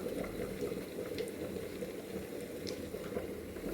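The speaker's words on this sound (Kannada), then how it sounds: "ಇನ್ನು ನಾಲ್ಕು ಮೀನನ್ನು ಹಾಕಿದ್ದೀನಿ ಇದು ಚೆನ್ನಾಗಿ ಫ್ರೈ ಆಗಲಿ" Rava-coated Mangalore fish frying in hot oil, four pieces in the pan, giving a steady, dense bubbling sizzle that stays even throughout, close but fairly quiet.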